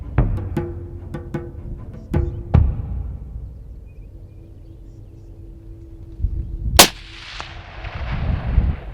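A single sharp .25-06 rifle shot at an impala on an African hunt, fired at close range around the seventh second. Quiet bush ambience and scattered clicks come before it, and a short fading echo follows.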